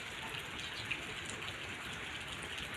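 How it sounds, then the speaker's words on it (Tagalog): Light rain falling steadily over an outdoor parking lot in the morning, a soft continuous patter and hiss with no voices, evenly spread and fairly quiet throughout. "Mahina talaga yung ulan."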